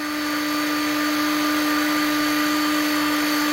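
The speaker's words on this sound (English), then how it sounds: "you need a heat gun and heat it up" A heat gun warms a PVC pipe fitting on a pond pipe, its steady loud fan roar and motor hum running close and unchanging with no voices.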